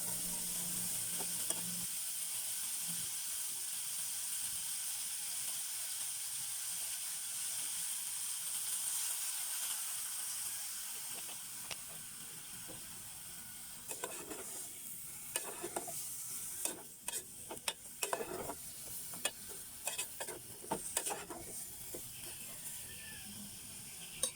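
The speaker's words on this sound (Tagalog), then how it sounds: "Lagyan natin siya guys ng kunting kulo" Chopped chayote (sayote) sizzles and simmers in a pan for a Filipino sautéed dish, a steady close frying hiss with stirring scrapes that grow busier and more clattery toward the end.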